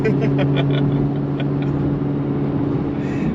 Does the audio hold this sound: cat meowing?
no